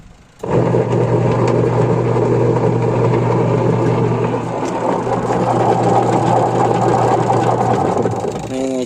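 A Micromatic single-tub washing machine with a slipping gearbox runs loudly and steadily, a constant droning hum with a grinding mechanical rattle that continues for several seconds before easing slightly near the end.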